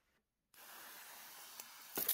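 A spray bottle mists a tarantula enclosure in one continuous light hiss lasting about a second and a half, close and fairly soft, starting abruptly after a short silence and ending with a brief louder burst.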